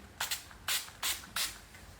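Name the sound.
face mist spray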